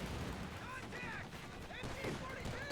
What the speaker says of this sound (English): Those huge 50 cals.